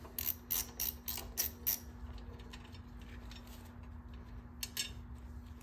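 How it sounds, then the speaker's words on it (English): A small Allen key backs out a side bolt while a cooler guard goes onto a 2021 Royal Enfield Himalayan 411, with a short run of sharp metallic clicks up close, then quiet, then a final pair of clicks. "So this is just an Allen key in the side to remove"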